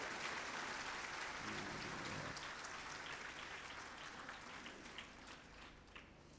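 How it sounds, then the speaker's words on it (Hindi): An audience claps hands at a spiritual talk, a dense, steady wash of applause that gradually thins and fades toward the end. "नहीं है तो बजाओ तालियां दिलेरी से।"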